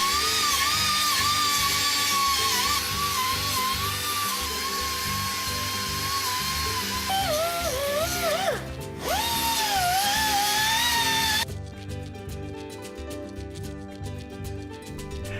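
Power tool grinding rust off a car's brake hub assembly, a loud whining spin with pitch shifting as it bites into the metal, a brief dip, then a buzzier rattling tone, close up.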